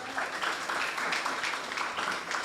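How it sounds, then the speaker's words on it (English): Audience applause at a student internship programme closing ceremony, a steady dense wash of many hands clapping together throughout, fairly close and even in loudness. "Let's give him another round of applause."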